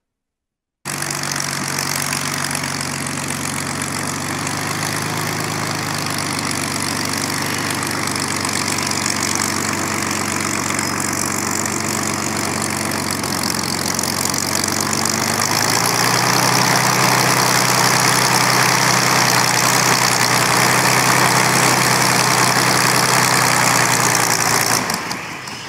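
Spitfire aircraft engine making a low pass down the runway at about 300 knots, a loud continuous droning roar that holds steady, shifts in pitch around the middle and stays strong to the end.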